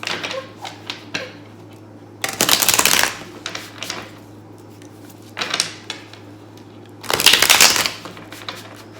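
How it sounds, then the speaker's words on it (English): Two vigorous bursts of tarot cards being shuffled hard, each a second or so of rapid riffling, separated by quieter taps and handling sounds. "Good hard shuffle."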